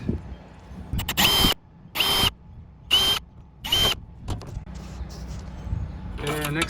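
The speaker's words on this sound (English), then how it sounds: "Next, we drill some holes." A power drill bores holes for mounting an aluminum air dam on an RV solar panel, with four loud bursts of a few seconds each separated by short pauses.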